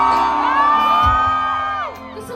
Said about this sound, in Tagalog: isa pang hiyawan sa ngayong gabi